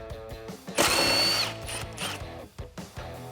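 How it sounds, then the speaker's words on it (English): Ratchet with a 10mm socket unbolting the air box bolt on a 2011-2014 Mustang V6, heard as a burst of close ratcheting clicks followed by a few sharper clacks against a faint background tone. "so you'll need a 10mm socket, and we'll just grab this bolt right here"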